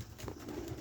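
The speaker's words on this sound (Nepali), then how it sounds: "हेर न केटा हो परेवा यार छ, यहाँ कति छ केटा परेवा छ।" Pigeons coo at a feeding spot where grain is being scattered, a soft low burble close by, faint and brief.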